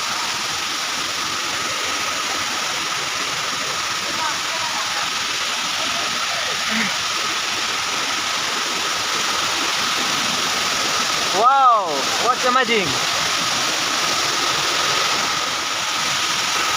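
Palkaguda waterfall near Gumma roars steadily as water pours from top to bottom, a constant broad rushing wash that fills the scene, with a short exclaimed voice breaking in partway through.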